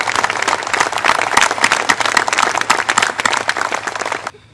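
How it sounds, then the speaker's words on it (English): Steady, dense applause from a crowd at the unveiling of the renovated Memorial Field in Burbank, many hands clapping loudly and continuously before cutting off abruptly at the end. "I just want a round of applause to everybody that participated over the last 20 years"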